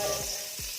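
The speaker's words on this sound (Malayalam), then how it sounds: "2 ടേബിൾ സ്പൂണോളം നെയ്യ് ചേർത്ത് കൊടുത്തിട്ടുണ്ട്" Ghee melting in a hot pot on a stove while prawn biriyani is being prepared, a brief, quiet hiss of sizzling fat with two soft low thumps as it is stirred.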